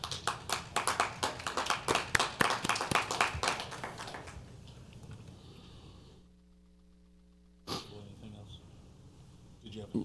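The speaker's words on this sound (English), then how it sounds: "our whole Career Tech Center program deserves a very big round of applause from the board and all of our staff" Applause for a Career Tech Center program at a school board meeting: a short burst of hand clapping from a small group, fading out after a few seconds, with a low hum and a faint voice afterward.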